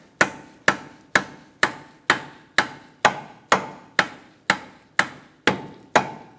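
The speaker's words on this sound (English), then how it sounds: "giving it a good whack with a rubber mallet" A rubber mallet strikes a front CV axle on a 2013–2022 Buick Encore in a dozen evenly spaced, sharp thuds, each decaying quickly, close and fairly loud with no talking.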